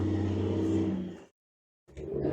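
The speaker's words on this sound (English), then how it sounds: "Sorry about the noisy truck." A truck drives past on a nearby road outside a barn, a loud close engine rumble that cuts out abruptly, then returns after a short gap.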